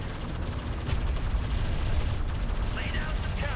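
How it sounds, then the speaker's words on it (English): Cannon fire from the real-time strategy video game Homeworld: Deserts of Kharak, dense continuous rumbling bursts and booms filling the whole stretch, loud and close, with no voice over it. "Lay down some cannon fire."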